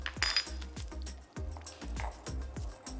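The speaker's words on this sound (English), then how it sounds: "We're going to pound 1 teaspoon of cumin." Cumin seeds are pounded in a rhythmic series of sharp, close knocks, roughly three or four per second, with brief light clinks between them.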